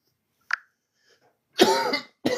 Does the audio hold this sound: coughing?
yes